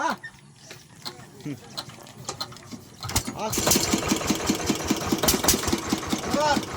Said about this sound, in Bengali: ভাই এখন মেশিন স্টার্ট করবে দেখতে পাচ্ছেন এই যে